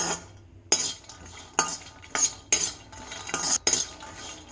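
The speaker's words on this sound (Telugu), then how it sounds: "ఫస్ట్ బాదం వేసుకుని ఫ్రై చేసుకుందాం" Almonds dry roasting in a pan over a low flame, heard as a series of sharp scraping and clinking stirs against the metal with a faint rustle of nuts between them, close and without talk.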